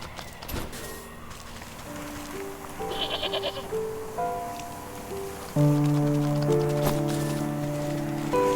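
Goat bleating in the video game Wytchwood, several drawn-out cries stepping up in pitch over soft rain-like background ambience, with no talking.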